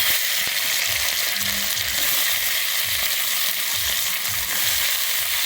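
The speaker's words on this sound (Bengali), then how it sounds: "আমি ঘি আর তেলের মধ্যে আমি দিয়ে দিচ্ছি প্রথমে এখানে কেটে রাখা বিনসগুলো" Cut beans frying in ghee and oil with a steady, loud, even sizzle that runs unbroken throughout, with no talking.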